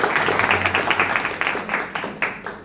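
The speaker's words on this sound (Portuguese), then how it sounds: "Por favor, palmas para a Sibeli, gente." Audience applause at a live book launch event, steady clapping from a crowd lasting the full stretch and slowly thinning toward the end, with no voices over it.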